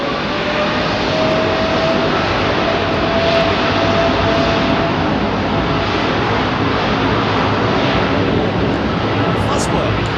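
Jet airliner engines spooling up at Heathrow airport, a loud steady roar filling the whole clip with broadband rumble and a faint rising whine, heard from a distance.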